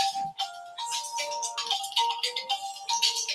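A mobile phone ringtone plays loud and close, a bright repeating melodic pattern of short tonal notes cycling steadily without pause.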